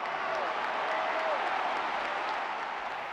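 A large crowd applauding and cheering political speeches, a dense, continuous wash of clapping at steady loudness for the whole stretch.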